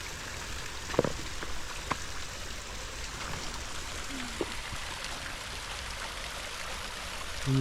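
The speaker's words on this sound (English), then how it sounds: "Here's a bit of a waterfall on the way down." Small waterfall spilling along a muddy, slippery hiking trail among stone fences, a steady broadband rush of water running unbroken throughout, with a few faint clicks and knocks over it.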